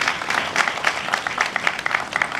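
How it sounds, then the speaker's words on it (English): Audience applauding at a college graduation ceremony: a dense, steady wash of many hands clapping that fills the room at moderate distance, with no voices rising above it. "So I really want to applaud you guys."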